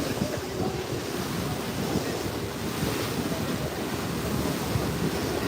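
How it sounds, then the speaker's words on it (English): Wind and waves on the open water aboard the Staten Island Ferry in New York on a hazy, humid day, a steady broadband rush that holds constant and loud throughout with no talk. "on the Staten Island Ferry"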